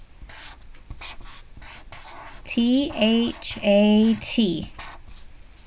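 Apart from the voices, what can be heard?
writing the word with a green marker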